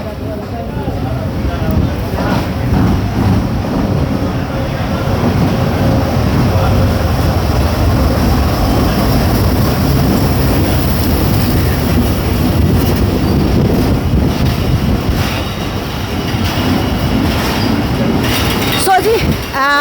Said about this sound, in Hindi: 28 डाउन शालीमार एक्सप्रेस आ रही है कैंट स्टेशन पे